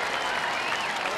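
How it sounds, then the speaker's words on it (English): A brief, dense wash of audience applause at an outdoor celebrity knockout charity contest between the Lord's Taverners and celebrities, with even, continuous clapping throughout. "applaud them if you will"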